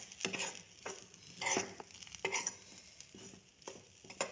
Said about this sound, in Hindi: और इसे सॉफ्ट होने तक हम चलाते रहेंगे।